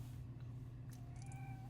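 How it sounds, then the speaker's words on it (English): A house cat meows softly indoors, one short, quiet call under a steady low hum, with no talking. "now she's meowing"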